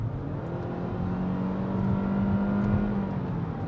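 A 2022 Kia Forte GT Line accelerates at full throttle in normal mode, its engine note climbing steadily in pitch from inside the cabin, a continuous rising drone with road noise and no talk.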